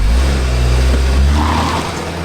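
Four-cylinder SUV accelerating on a test drive, heard as a loud, close engine roar with rising tone that eases slightly toward the end.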